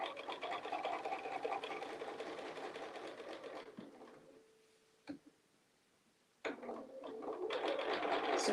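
A sewing machine stitches a quilt panel, running steadily for several seconds, pausing with a couple of isolated clicks, then starting up again with a fast, continuous mechanical whir, close and clear with no talk.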